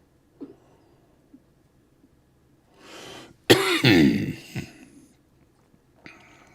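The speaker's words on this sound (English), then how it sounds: "Sorry, I keep coughing." Several short coughs and throat-clearing bursts from a nearby person, the loudest a rough cluster in the middle, with brief quiet gaps between them.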